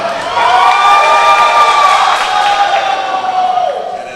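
Swim team cheering and shouting for a swimmer at a swim meet, a loud sustained crowd roar with whoops, rising fast and holding strong before easing slightly at the end.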